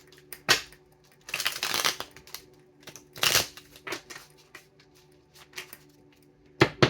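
Tarot cards shuffled in quick papery bursts with sharp flicks and taps, some louder riffles, in a quiet room.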